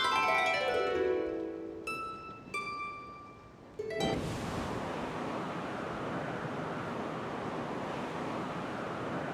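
Wind currents sweeping across a city in the video game Genshin Impact: after a fading chime-like musical passage, a loud, steady broadband rush of wind takes over and continues alone.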